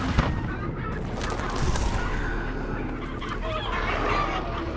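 Chickens cluck in the video game Hunt: Showdown, a steady busy flock close by under a dense layer of game ambience, with no clear talk over it.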